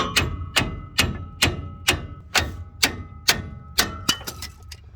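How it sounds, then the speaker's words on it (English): A bigger hammer strikes metal in a garage while a 1968 Barracuda with a blown big block gets prepared for its first drive. The ringing, sharp blows come about ten times at a steady pace, close and clear, ending in a quick flurry. "Bigger hammer."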